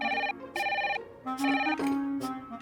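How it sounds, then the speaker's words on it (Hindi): A phone ringtone plays a repeating melodic ringing pattern in bursts, fairly clear and close, with no talk over it. "इसका फोन आ गया।"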